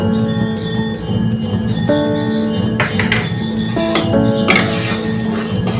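Guava jelly with sugar and food colouring stirred continuously in a pot, giving repeated metallic clinks and scrapes of a spoon against the pot over a steady low kitchen hum, growing busier toward the end.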